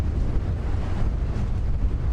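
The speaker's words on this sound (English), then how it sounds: "Look at how windy it is." Wind buffets the microphone on an open safari game drive, a steady loud low rumbling gust with no voices.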